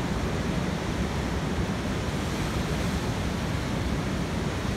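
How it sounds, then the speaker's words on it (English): Large ocean waves break on a shore in a steady, loud, continuous roar of surf with no voices. "my favorite things right now is huge waves"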